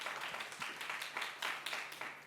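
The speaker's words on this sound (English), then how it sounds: "Let's give them a round of applause just to get started" Applause from a business forum audience, a steady wash of clapping that holds for the whole stretch at moderate loudness, with no voices over it.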